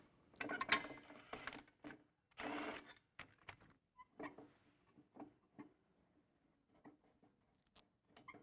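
A socket wrench removing two bolts beneath the shank of a boat's closing system, giving a series of short mechanical ratcheting clicks and metallic clinks in quick bursts, with quieter handling sounds between them.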